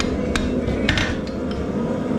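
A blacksmith's hammer taps steel on an anvil near the hardy hole, using the round face to mark a fireplace brush piece: a few light, separate metallic strikes over steady forge-shop background noise.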